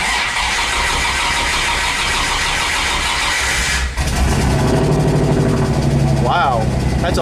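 A boosted Dodge Dakota with a new turbo exhaust cranks and fires up: a steady loud whir is followed by the engine catching abruptly and settling into a rough, throaty idle. A voice is briefly heard over it.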